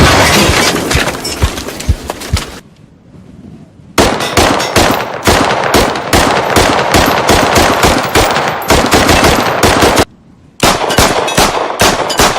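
Weapon gunfire in the military shooter game Squad: long, loud bursts of automatic fire with rapid cracks and rattling echoes, broken by two short silent gaps.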